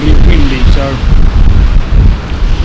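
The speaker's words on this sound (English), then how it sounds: "it's incredibly windy" Strong gusts on Dungeness Beach batter the microphone with heavy low rumbling buffets, loud and continuous with brief lulls, a voice faintly mixed in.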